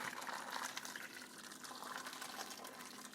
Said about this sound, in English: Now go ahead and add the hot water.